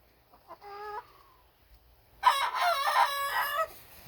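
A big rooster crows twice, a short nearby call followed by a longer, louder, ragged cock-a-doodle-doo.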